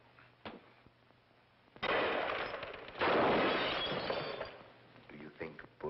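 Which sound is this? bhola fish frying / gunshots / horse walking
gunshots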